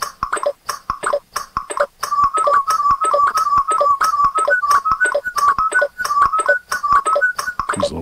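A Yamaha Tenori-on synth plays a looping whistle sound: a rhythmic run of short, bright whistled notes punctuated by sharp clicky percussive hits, loud and close, with no voices.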